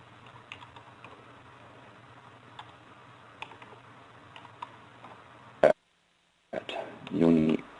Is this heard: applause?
no